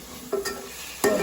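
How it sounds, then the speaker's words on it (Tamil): Tomatoes and shallots being sautéed with curry leaves for chicken biryani, a spoon scraping the pan in two short strokes over a soft steady sizzle, close and fairly quiet. "இதோட தக்காளி பழத்தோடு சேர்த்து ரம்பையும் வதக்குவோம்."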